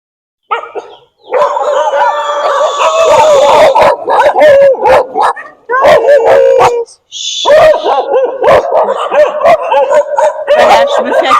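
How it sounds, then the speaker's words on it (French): Several dogs bark, yip and howl in loud overlapping bursts at a temple in Cambodia, close by, with brief pauses between volleys. "je me fais accueillir par les chiens"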